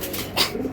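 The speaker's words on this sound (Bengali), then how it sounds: "এটা একটা মাদি কবুতর ভাই" A female racing pigeon gives a single short, close coo, brief and moderately loud against a quiet background.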